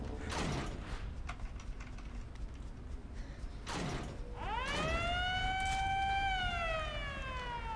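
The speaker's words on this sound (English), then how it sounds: "Wow. Thanks for the siren." A rising siren wail in Resident Evil Revelations 2 swells up and holds steady, preceded by a couple of creaking mechanical clunks, over a constant low background rumble.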